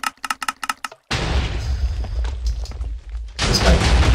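A tiny comparator cannon fires a rapid burst of about ten sharp, loud shots in quick succession. The echoing booms and crackling rumble that follow fade out before another loud blast.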